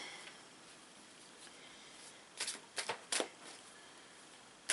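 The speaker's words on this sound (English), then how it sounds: "Shuffle them again." A deck of cards is shuffled in a few quick riffling bursts after a stretch of quiet room tone, close and fairly soft.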